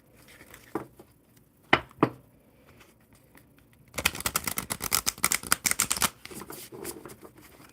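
Thick tarot cards being shuffled by hand: a few isolated taps at first, then a dense run of crisp riffling slaps up close, with no voices.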